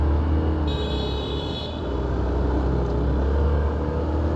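A motorcycle engine idles or runs steadily nearby, a constant low rumble with a brief higher whine early on, heard alone at a fairly loud level.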